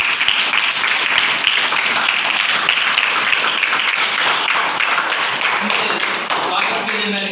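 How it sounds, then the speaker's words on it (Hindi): An audience at a school Hindi Day event applauds to welcome the chief guest with a dense, sustained burst of clapping. The applause is close and loud and holds evenly from start to finish, with voices murmuring underneath. "आप उनका तालियों से अभिनंदन करें।"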